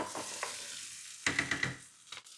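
Chopped garlic and onion frying with sausages in a pan, with a soft sizzle under a quick run of four sharp stirring clatters and a final scrape.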